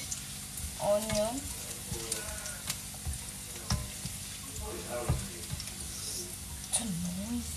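Onions sauté in a pan for a beef stir-fry with mixed vegetables, giving a continuous moderate sizzle with occasional stirring clatter. A voice is heard intermittently over the frying.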